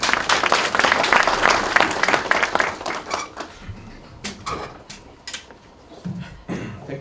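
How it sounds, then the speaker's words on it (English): Dense audience applause at a KenGen rights issue bell ringing ceremony at the NSC, greeting the CEO as he comes on stage. It is loud and sustained, then thins into scattered, fading claps. "A round of applause for him."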